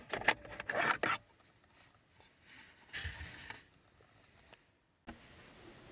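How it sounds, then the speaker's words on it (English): Ashtray being pried out of the center console of a W205 Mercedes-Benz C-Class C300, giving faint plastic clicks, scrapes and rustling handling noises up close, louder at the start and again near the middle, with one final click. "And then I'm going to remove the ashtray."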